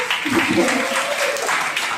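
A university audience of students claps for a speaker in a crowded hall, the applause steady and fairly close with a voice talking over it.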